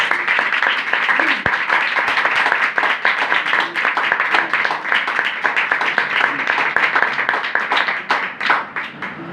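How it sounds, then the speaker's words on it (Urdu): A church congregation bursts into loud, sustained applause, dense rapid clapping from many hands filling the hall steadily for several seconds without letting up. "خدا کی پاک شریعت، خدا کے پاک فضل اور تحریری خدا بائبل مقدس کے لیے ایک بار زوردار تالیاں"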